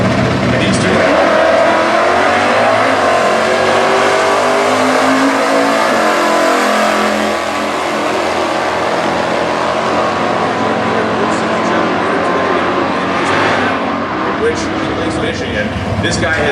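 Stock Eliminator drag race cars at the 2015 US Nationals, including a 1988 Mustang with a 302, roar loudly and continuously at close range, engines rising in pitch as they accelerate, with an announcer talking over them.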